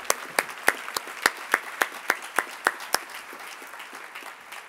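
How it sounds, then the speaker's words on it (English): Slow, steady audience clapping for a panel at a downtown event, about a dozen distinct claps in an even rhythm, close and fairly loud before fading into a quieter room. "Let's give a huge round of applause to this amazing panel, to Deb, to Tom, to Anne, and to Angela."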